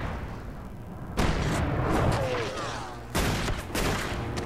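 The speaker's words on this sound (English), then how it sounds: "Wow, these FBI people suck at firing guns." Gunshots in the video game Alan Wake, FBI agents firing in loud bursts with sharp broadband cracks and booms, a volley around the middle and another near the end, with voices faintly audible amid the shooting.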